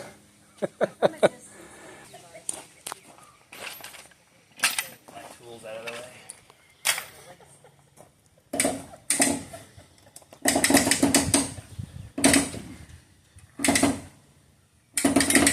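Winch on a newly owned sailboat ratcheting in repeated bursts of clicks while a rope is hauled in, heard up close, with people talking and breathing hard between the pulls.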